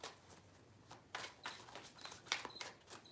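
Cards being shuffled three times, quiet riffling bursts with short pauses between them, close up and soft.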